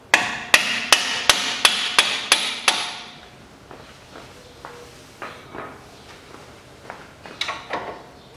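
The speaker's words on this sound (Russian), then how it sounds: "Вот такой себе молоточек приобрел, дело техники." Eight sharp, evenly spaced strikes of a 500-gram hammer ring out close up, followed by fainter scattered taps and knocks.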